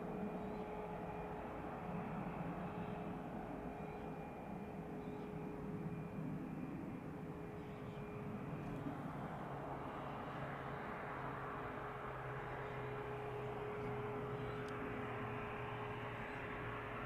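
Airbus A320-200 airliner, an 18-year-old airframe, heard at East Midlands Airport as a steady, fairly distant engine roar that holds evenly throughout with a constant tonal hum, no voices present.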